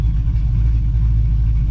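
A stage 2 cammed Pontiac G8 GT V8 idles close by with a deep, steady rumble and a slightly choppy, loping pulse, heard alone with no talk.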